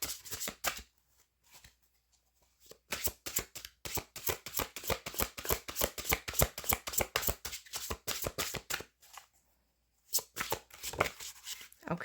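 Playing cards being shuffled and drawn by hand in close, quiet surroundings, with dense bursts of rapid riffling flicks separated by brief pauses and near silence.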